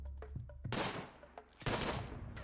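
Colonist gunfire in Rimworld during a raid: scattered small shots break into two loud bursts of overlapping gunfire about a second apart. Each burst rings on briefly, and no one speaks.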